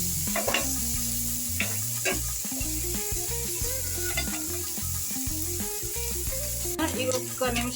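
Green chillies fry in a pan for a spinach-onion dish, crackling and sizzling up close with scattered sharp pops and stirring clicks over low background tones.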